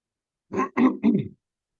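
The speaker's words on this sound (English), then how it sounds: "let me just clear my throat 1 second" A man recovering from a cold clears his throat in three quick, close, fairly loud rasping bursts, then falls silent.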